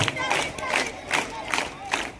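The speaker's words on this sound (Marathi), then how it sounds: "तिकडच्या बारकांच्या पोरांनी आणि तिकडच्या बारकांच्या पोरांनी जोराने टाळ्या वाजवल्या" A crowd of school children at a Narsobachi Wadi high school gathering claps and cheers in rhythmic bursts, a steady roar of hands and voices swelling about every half second, loud and sustained.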